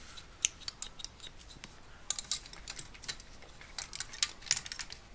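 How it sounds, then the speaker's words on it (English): Tin snips slicing through sheet metal at a jeweller's bench, a run of crisp, sharp metallic snips in an irregular rhythm, close and fairly quiet, with no talking. "These are called tin snips. I can cut through sheet metal with these."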